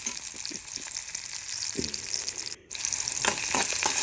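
Sliced onions sizzling in a pan for a Kerala-style mackerel curry, giving a steady, close frying hiss with a few soft stirring taps and one brief dip in the sound.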